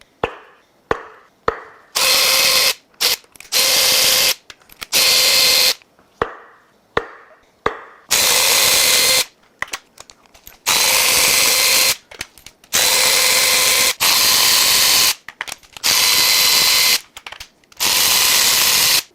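A power tool removes spark plugs from a Porsche Macan 3.0 twin-turbo V6 engine, whirring loudly and close in a series of short, repeated bursts separated by brief pauses.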